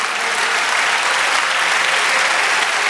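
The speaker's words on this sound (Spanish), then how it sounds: "Dale un aplauso al Señor" A church congregation applauds, dense, steady clapping filling the room at full volume without pause.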